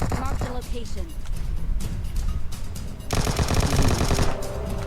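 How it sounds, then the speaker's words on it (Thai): Rapid automatic gunfire in the mobile shooter PUBG Mobile, loud close bursts that intensify near the end, with someone speaking over the shooting. "ยิงผมไม่ยั้งเลยนะ"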